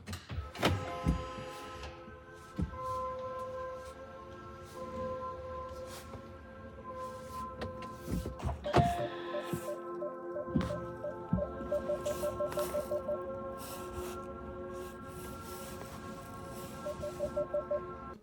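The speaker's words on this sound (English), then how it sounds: "They did change the sound that the car makes when it is in reverse." Reverse warning chime of a 2025 Hyundai Ioniq 5 refresh electric car, a soft repeating electronic tone pattern with steady pulsed notes, playing alone without speech over a quiet background.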